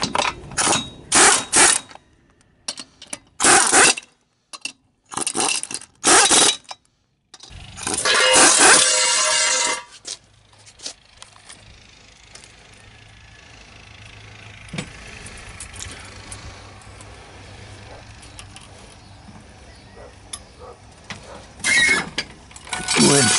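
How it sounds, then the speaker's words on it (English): A wheel tightened on a 2008 Kia Spectra and the car lowered: bursts of ratcheting and tool clatter up close, then a longer low rumbling stretch of the car coming down, with sparse clunks. "Let's finish tightening up the wheel, let it down"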